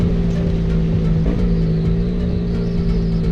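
A small 250cc motorcycle engine runs close by, a loud steady drone with a brief pitch wobble as the throttle is blipped, then settling back to an even idle hum with no talking.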